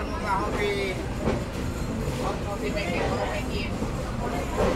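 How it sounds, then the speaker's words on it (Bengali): A passenger train pulls out of Darshana Halt railway station in Bangladesh, bound for Chuadanga, with a steady rolling rumble and faint wheel clatter, while murmuring voices carry on underneath. "আমাদের ট্রেন চলতে শুরু করলো"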